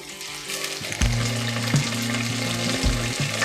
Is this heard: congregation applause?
no